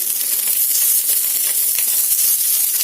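Sliced onions for radish fry sizzle in hot oil in a pan, a steady close crackling hiss with no pauses and no voices.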